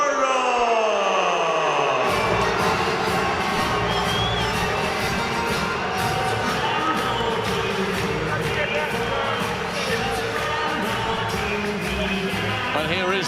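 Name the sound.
boxing crowd cheering as champion Scott Cardle walks in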